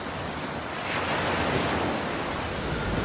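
Stormy open sea with heavy waves and strong wind, a dense, steady roar of surf and gusts that swells slightly in the middle and holds loud throughout.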